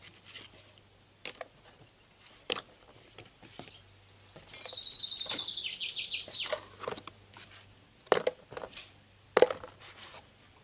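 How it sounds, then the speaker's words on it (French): Metal ball joint parts from a Citroën Traction 11B front axle are set down into boxes, giving sparse sharp clinks and taps spaced apart, with a brief stretch of high squeaky scraping in the middle, close and otherwise quiet. "maintenant, je vais ranger délicatement mes pièces de rotule. Alors, une boîte pour une rotule."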